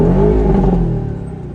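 A 2018 Porsche 718 Boxster with an aftermarket exhaust revs hard, a loud, close engine note with rising harmonics that holds strong, then eases off and fades over about a second and a half.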